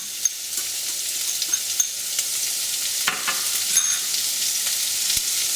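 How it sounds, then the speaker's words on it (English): Chopped onion with cumin seeds frying in a pan, heard as a close, continuous sizzle broken by scattered clicks and scrapes of stirring, with no talking. "I'll put some onion in here. And we'll cook this onion down a little bit."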